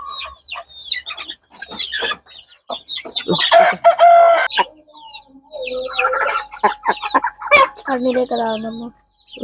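Chickens with fowl pox cluck in bursts while a rooster crows loudly nearby, the birds calling over one another with short gaps.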